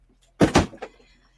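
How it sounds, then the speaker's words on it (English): A door swings shut indoors with a solid double thump followed by a softer latch click, fairly close and alone against a quiet room. "I'm going to close the door."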